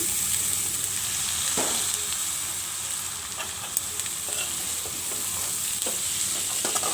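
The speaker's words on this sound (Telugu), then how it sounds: "ఆనియన్స్ ఇలా బాగా ఫ్రై అయిన తర్వాత మనం ఉడకబెట్టి పెట్టుకున్న అలసందలు ఇందులో వేసుకోవాలి" Onions fry with boiled black-eyed peas in a pan, making a continuous close sizzle with intermittent stirring scrapes and clicks, and no voices.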